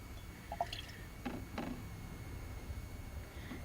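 A little water added to paint, heard as a few soft drips and small wet splashes close by, brief and scattered over a quiet background.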